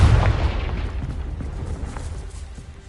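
A Confringo blasting spell goes off in the Hogwarts Legacy video game, a loud booming explosion at the start that rumbles and slowly decays, with no talking over it.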